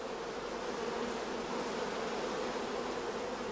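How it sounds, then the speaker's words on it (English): A dense, steady drone of many honeybees in a queenless colony buzzing loudly and continuously, close up, with no other sounds breaking through. "we can hear the loud buzzing of the orphan bees"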